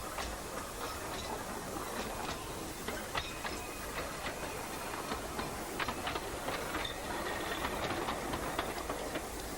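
A double-headed, ten-coach vintage narrow gauge steam train on the Ffestiniog Railway in Wales rumbles along steadily, with continuous wheel clatter, hissing and faint rhythmic clicks over the rail joints.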